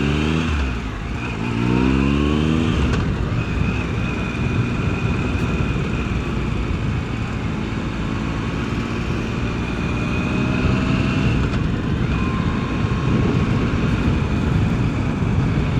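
An adventure motorcycle rides along a street, its engine droning steadily and loudly close by with rising and falling revs and wind rush, and no voices.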